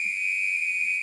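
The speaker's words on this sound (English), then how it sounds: "We might need to hit a whistle." A single sustained high-pitched whistle blast, loud and steady for about a second, heard alone with no voices.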